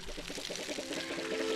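Water pours steadily while a tree orchard is watered in a relaxed farming video game, a continuous trickling wash with faint rhythmic pulses and no talk over it.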